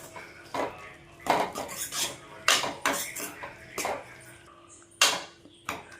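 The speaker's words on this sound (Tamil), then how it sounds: "தேங்காய் பூ கொஞ்சம் போட்டுக்கிட்டு நல்லா கலரி கொடுத்துக்கலாம்." Bitter gourd cooking in a pan with grated coconut being stirred in, giving repeated scraping and clinking hits of a spoon against the pan at an uneven rhythm, close and fairly loud, with no talking.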